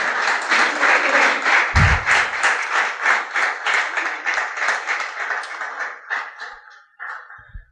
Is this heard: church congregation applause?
yes